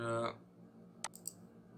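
Two or three soft, sharp mouse clicks sound on a computer while working on a logo website, faint and close, following a brief stretch of speech at the start.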